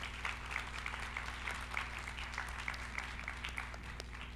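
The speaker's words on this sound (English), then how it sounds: "please join me in giving a huge round of applause to Mike and Catherine for their help and exc" An audience at a law conference on the future of law claps in sustained applause, steady and somewhat distant, holding at a quiet, even level for several seconds.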